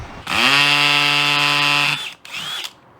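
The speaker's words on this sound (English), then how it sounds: "grab the drill and get going" A power drill drilling a hole during a Honda Element build whines loudly at a steady high pitch for about two seconds, cuts off, then gives a second shorter burst.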